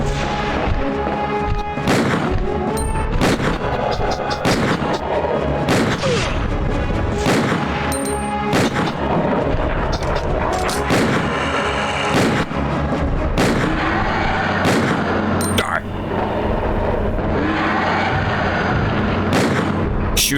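Heavy gunfire in Resident Evil 2 during a boss fight, loud booming shots landing in rapid succession with crashing impacts, dense and continuous throughout with no voices.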